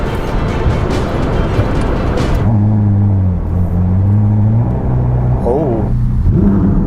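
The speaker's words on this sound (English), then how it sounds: "But since this is a Ferrari, let's throw her into life." A Ferrari SF90 supercar fires up with a loud burst, then settles into a steady, close engine idle with a brief rising rev near the end.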